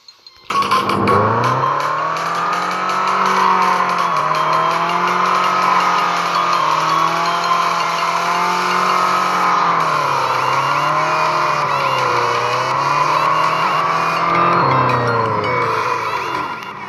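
A car engine in a drifting video game revs steadily and loudly for the whole stretch, pitch rising and dipping as the tires squeal through long, sustained slides.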